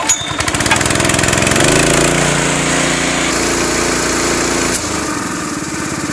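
A small Honda GX160 gasoline engine sputters to life close by, then settles into a loud, steady running drone.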